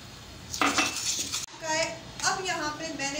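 A spoon scrapes and clinks against a bowl while sifted powder and cocoa powder are stirred together for icing, with a few short bright knocks close by under a woman's speech.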